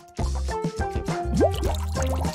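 Water trickles and drips onto a dry-erase marker drawing on a spoon, a few close, bubbly liquid splashes and a rising gurgle.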